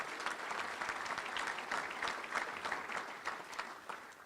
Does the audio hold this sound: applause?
yes